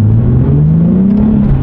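Nissan 370Z Nismo engine revving under load while driving, a loud, steady in-cabin drone with pitch slowly climbing and holding through the revs, no talk over it.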